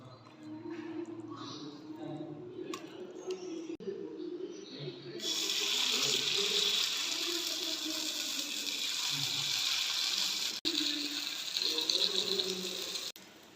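Paniyaram batter is poured into a hot pan, and a broad steady sizzle rises and holds close by, with a voice talking over the quieter start.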